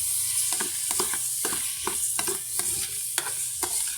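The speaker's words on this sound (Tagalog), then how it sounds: "Ngayon, umuusok na, saka na natin hahaluin." Bitter gourd and egg sizzle in a smoking-hot pan while a spatula stirs, scraping in a steady rhythm of about eight strokes over a continuous frying hiss, close and alone.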